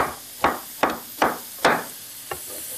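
A knife chopping a cored pineapple into chunks on a cutting board, five firm, evenly spaced thuds at close range, the last one lighter, with quiet gaps between strokes.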